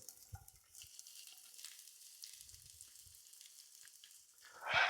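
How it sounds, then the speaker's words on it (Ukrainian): Soft sizzling of onion frying in hot oil, with a few low clunks of a pan early on and a louder crackling burst at the end. "Як тільки олія розігрілася, сюди додаю цибулю."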